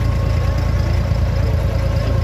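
Boat engines rumble on the water in Dubai as boats pass by, a loud, steady low drone with no break throughout.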